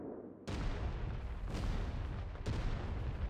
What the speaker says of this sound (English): Detonate munitions.